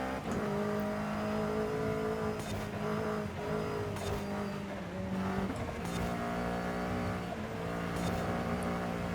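A race car engine in the video game Forza Horizon 5 during a hill climb, revving hard through repeated gear shifts with rising and falling engine tones and occasional tire squeal, loud and continuous.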